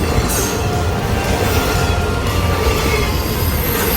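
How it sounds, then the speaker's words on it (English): A train rumbles past up close, loud and continuous, with wheels grinding and squealing against the rails. "But sometimes trains go by fast"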